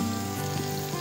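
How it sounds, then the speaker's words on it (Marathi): Pomfret fish frying in hot oil on a slow to medium flame, a steady close crackling sizzle with a faint low hum running underneath throughout. "हे गेले आपले पापलेट तळ्यावर, वरून थोडंसं तेलही घालून घेऊया."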